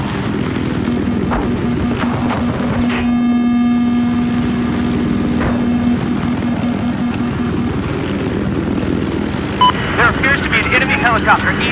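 Scout helicopter in Battlefield 4 gameplay, a loud, steady close rotor and engine drone with a sustained tonal whine, joined by scattered game effects near the end.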